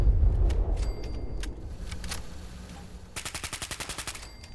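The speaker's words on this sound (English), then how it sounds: "I love how the guns go." Machine gun fire in the video game Fallout 4 rattles in a fast, even burst of crisp shots near the end, preceded by scattered single gunshots and a low rumble.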